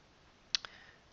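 Two quick, faint computer mouse clicks in close succession in a quiet room, with no talk.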